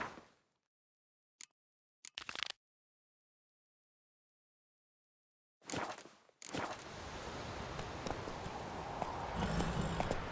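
Roach the horse's hooves clip-clop in The Witcher 3, first in a few short isolated bursts separated by silence, then in a steady, continuous run of hoofbeats that carries on to the end.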